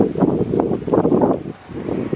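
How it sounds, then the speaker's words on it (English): Strong wind blows outdoors, a loud, close, gusting rumble buffeting the microphone for the whole stretch, easing briefly before building again. "the wind's just too windy and everything just blew away"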